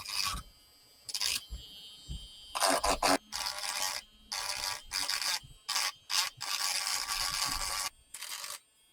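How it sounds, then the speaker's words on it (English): Bursts of harsh, gritty sanding noise start and stop in short passes, a power sander smoothing bumps from hardened Milliput epoxy putty on a sculpted figure close by, with brief quiet gaps between. "I can use a sander to get rid of any little bumps in the surface."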